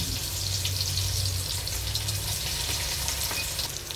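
Onion and garlic sizzle steadily in hot oil in a pan for ginataang langka, a continuous close frying hiss with a low rumble beneath and no talk.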